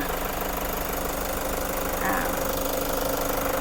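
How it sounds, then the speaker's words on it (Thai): A 2017 Toyota Commuter 3.0D diesel van idles with a steady, close engine clatter and rumble, an even mechanical chatter throughout with no talk over it. "เครื่องดีค่ะ ฟังจากเสียงเครื่องได้เลยนะคะ"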